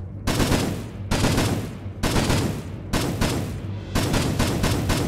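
A cannon fires in Minecraft in five loud, crackling blasts, each about a second long and separated by brief gaps, close and harsh, with no talking.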